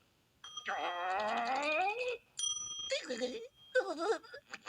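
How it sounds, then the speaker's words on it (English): A bell rings repeatedly in bright, high chimes, mixed with animated SpongeBob SquarePants cartoon voices talking and exclaiming over it. "stop ringing this bell"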